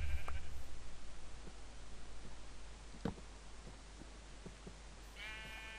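A sheep in the video game Minecraft bleats briefly at the start and again at the end, soft and nasal over a low steady background hum with faint clicks in between.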